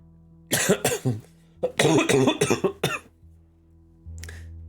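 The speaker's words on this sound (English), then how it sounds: "Sorry, my cough's coming back." Two rapid bursts of harsh coughing, one short cluster and then a longer fit of several coughs, close to the microphone against a low hum.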